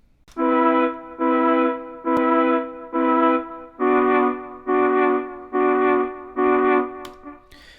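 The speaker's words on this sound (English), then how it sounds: "In this case, we have a flute patch," A synthesized flute tone plays eight sustained notes in a steady rhythm, each note separated by a short pause, clear and alone.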